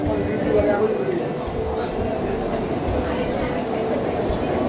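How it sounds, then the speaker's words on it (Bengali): An underwater metro train pulls out of Esplanade station toward Howrah Maidan, with a continuous heavy rumble and rattle from inside the carriage while a person talks over it. "এখন ছেড়ে বেরোচ্ছে এসপ্ল্যানেড স্টেশন ছেড়ে হাওড়া ময়দানের দিকে কিন্তু এগিয়ে যাচ্ছে গাড়ি"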